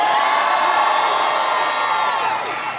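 A crowd at a Joe Biden rally in Virginia cheers and shouts continuously, a dense, loud roar of many voices that eases off slightly toward the end.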